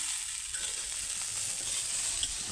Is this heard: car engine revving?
no